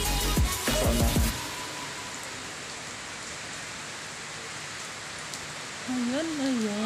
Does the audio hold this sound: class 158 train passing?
no